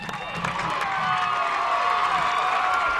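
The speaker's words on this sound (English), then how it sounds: "Heck of a crowd here to watch some state championship football today." A crowd in the bleachers at an 8-man state championship high school football game keeps up a steady roar of cheering and shouting, with scattered clapping and a continuous wash of noise.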